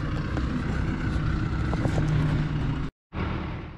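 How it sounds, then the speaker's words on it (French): A farm tractor pulling a hitched implement and ballast weight runs in a steady, loud drone that cuts out briefly near the end and then resumes. "Alors là je pense que vous avez reconnu le tracteur qui est à l'avant."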